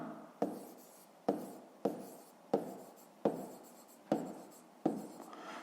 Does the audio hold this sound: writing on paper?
yes